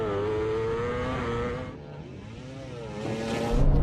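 A Porsche 911 engine roaring and revving hard at a drag race launch against a KTM Duke and a MotoGP bike, loud and close, the pitch dipping and then climbing again.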